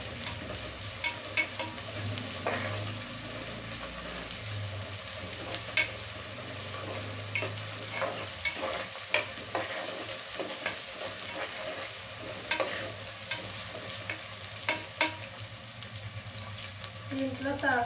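Onions frying in a pan for a fish curry, a continuous sizzle broken by repeated scraping stir strokes and small clatters, close and fairly quiet throughout.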